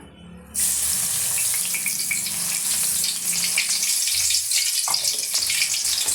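Crushed garlic goes into hot oil on a just-switched-off stove for an aval (poha) mixture snack, setting off a loud, steady, hissing sizzle that starts abruptly and carries on at close range without speech.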